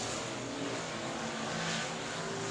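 Race cars roar around the South Texas Speedway track during heat race number 1, a steady, dense engine drone at moderate distance with no voices over it.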